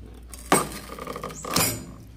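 A fresh coconut opening machine's lever pressed down, giving two sharp metallic clunks about a second apart, each with a short ringing clatter, close and moderately loud with no talking.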